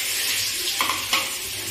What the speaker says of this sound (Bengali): এগুলোকে হালকা একটুখানি ভাজা ভাজা করব।